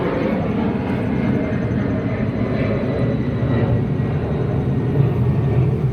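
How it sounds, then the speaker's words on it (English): An airplane passing overhead outdoors near a parked turbo 4th-generation Camaro, a steady loud broadband roar with a low rumbling hum throughout. "Airplane again."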